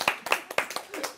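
A few scattered claps ring out at a church seminar workshop, sharp irregular hand strikes spaced a fraction of a second apart, thin and brief rather than a full crowd ovation.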